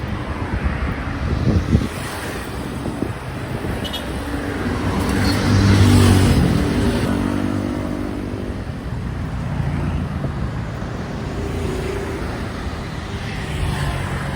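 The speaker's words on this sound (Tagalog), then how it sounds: "Ang bibilis ng mga motor dito guys." Motorcycles rush past at speed on a road, one louder pass swelling and fading midway, with steady wind buffeting the microphone throughout.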